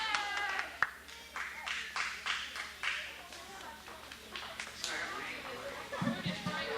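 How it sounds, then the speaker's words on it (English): Audience applause at a church-hosted 60th birthday roast: scattered, fairly faint clapping under ongoing talk and murmuring voices in the room. "Y'all give Brother Kenny a big round of applause."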